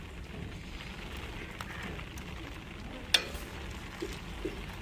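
Ground coconut goes into a dried stingray curry, which sizzles softly and steadily in the pan while it is stirred, with one sharp utensil clink and a few faint taps.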